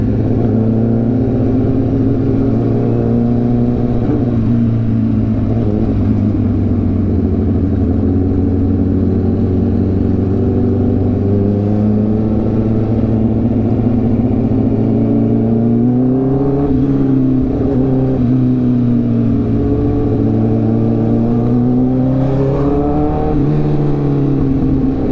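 A Yamaha R15 motorcycle engine drones steadily nearby, with a few quick rises and drops in pitch as it accelerates through upshifts. The engine stays loud throughout under constant wind and road noise.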